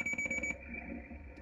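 Five quick, evenly spaced electronic beeps from a Kenwood TS-850 HF radio transceiver sound in rapid succession while setting DSP noise-reduction levels, followed by a faint steady tone and quiet hiss.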